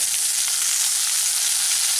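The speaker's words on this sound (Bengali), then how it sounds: "টমেটোটাও পেঁয়াজের সাথে ভেজে নিচ্ছি।" Chopped medium tomato frying with softened onions in a pan for an egg omelette curry, a dense, even, close sizzle that continues without pause for the whole short stretch.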